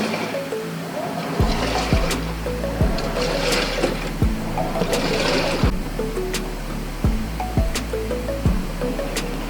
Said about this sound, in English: It's again draining the water out of the tub.